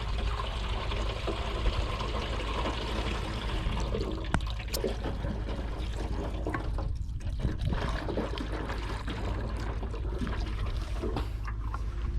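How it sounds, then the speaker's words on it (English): About three liters of water pour into a 16-liter knapsack sprayer, a steady trickling, sloshing gush that runs continuously, fairly quiet and close, with no voices. "we're going to pour a 3 liters water to the knapsack sprayer."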